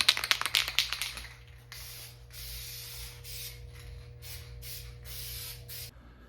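A spray gun lays a light paint coat on a Honda Civic quarter panel in a series of short hissing bursts with small gaps, close by, over a constant low hum, after some brief clicks at the start.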